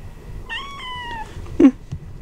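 A long-haired cat lets out a drawn-out, wavering meow during a claw trim, followed by a short, louder yelp-like cry; close and clear over quiet room noise.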